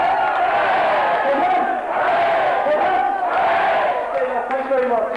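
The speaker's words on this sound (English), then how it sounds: "And please cheers for St Killians." A crowd of supporters cheers and roars loudly and continuously for St Killians after a Bailieboro v St Killians match, dense massed shouting and whooping that swells and dips without a break.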